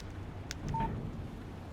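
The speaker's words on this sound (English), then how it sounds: "Text message from Barry." A single short electronic phone alert tone sounds once in the video game Alan Wake, a text-message chime standing briefly above a low, steady background hum.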